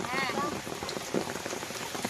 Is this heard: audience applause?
no